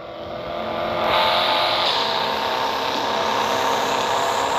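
A sports car drifts in a video game, its engine roaring steadily with a rising, sustained tire-and-motor wash that stays loud and continuous throughout, with no talking.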